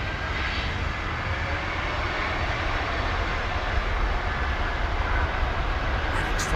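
Deep, continuous roar of CF6 jet engines as a heavy aircraft departs London Heathrow, holding steady and fairly loud throughout.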